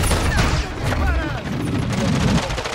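Gunfire in Call of Duty: Modern Warfare, rapid bursts and shots crackling over game noise, with loud, steady action throughout.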